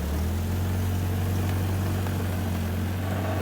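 A 1957 Austin Champ engine drones steadily at low pitch while driving, with a continuous rough rattling from the exhaust system underneath, loud and close throughout.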